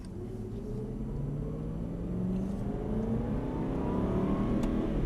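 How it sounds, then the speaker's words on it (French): An Aston Martin accelerates on the Dreux race circuit, its engine note rising steadily in pitch and growing louder as it pulls through the gears, a continuous close rumble and whir with no talk. "Donc tu peux être en phase d'accélération et passer les vitesses à la volée."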